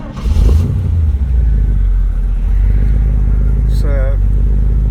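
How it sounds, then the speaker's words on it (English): A 350 Chevy small-block V8, mildly built with a street competition cam, idles with a loud, steady low rumble close by, a brief rev swelling near the start. "350 Chevy small block. It's built up a little bit with a mild competition cam, street cam. Got a nice sound to it"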